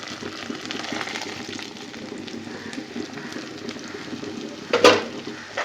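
Potatoes being sautéed with ground coriander, cumin, turmeric and chilli in a pan, a steady low sizzle under stirring scrapes, with a louder clink of the spatula against the pan near the end.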